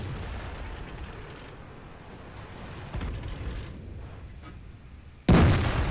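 A tank cannon fires once, a single loud, sharp blast near the end in a tank video game battle involving an IS-3 and a VK-4502A, after several seconds of low rumbling engine and battle ambience.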